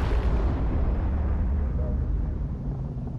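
A deep, continuous rumbling blast that fills the low end and slowly decays, an explosion during a Fortnite live event, with no talking.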